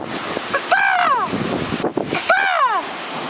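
Strong wind blows outdoors at a nature stone, a steady rushing roar with gusty low buffeting, while two brief warbling, falling tonal calls rise clearly above it.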